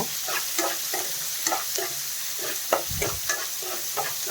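One large chopped onion fries in a pan for a drumstick fry, stirred in quick, regular scraping strokes. A close, continuous sizzle runs under the stirring, with a soft thud near the middle.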